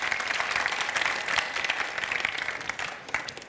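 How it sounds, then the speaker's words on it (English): Steady applause from an award show audience, a dense wash of clapping hands that holds for several seconds before thinning toward the end, with no talk over it. "Give them an applause."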